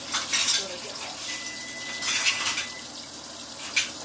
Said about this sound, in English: And these I can put in there in the dishwasher.